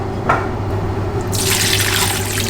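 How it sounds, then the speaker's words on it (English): A faucet turns on and water gushes steadily into a metal wok, splashing close by over a low kitchen hum. "Put some water."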